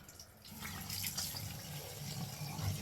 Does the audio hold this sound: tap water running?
yes